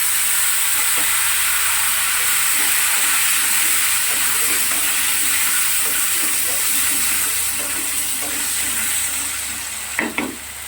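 Thin-sliced potatoes fry in oil with black cumin seeds, a steady loud sizzle with scraping stirs throughout and a couple of sharper knocks near the end.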